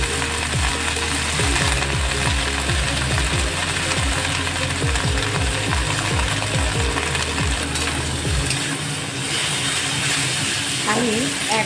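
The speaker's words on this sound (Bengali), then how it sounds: "এবার শাকটা ভেজে নেবো" Fenugreek greens frying in a pan for methi dal, a steady hiss of sizzling oil with scraping stirring strokes in a quick rhythm, close and continuous, while someone talks over it.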